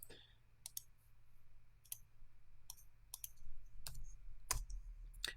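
Computer mouse clicks while renaming a desktop folder: sharp, isolated clicks spaced irregularly over a quiet room hum, close and distinct.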